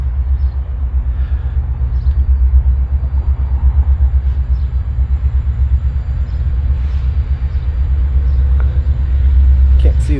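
CN freight train locomotives idle under full power at Homewood, Illinois, giving a loud, steady low rumble that throbs evenly and swells toward the end, with faint talk beneath.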